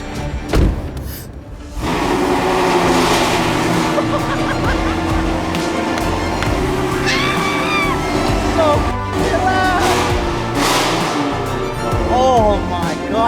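A car engine with an aftermarket intake and exhaust cranks and catches, then runs loud and close with a rough, steady rumble, while high chirping squeals come and go over it.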